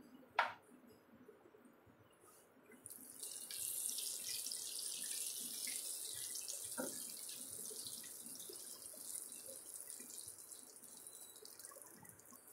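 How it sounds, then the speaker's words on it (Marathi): Peanuts frying in about three spoons of oil in a pan on a gas stove, for a Khandeshi sponge gourd dish: a single knock, then a steady, close hissing sizzle that begins after about three seconds and continues to the end. "त्यात मी शेंगदाणे तळून घेते."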